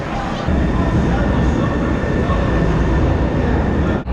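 A light rail train departs nearby in Seattle, rumbling loudly, a dense steady roar of wheels and motors that holds from start to finish.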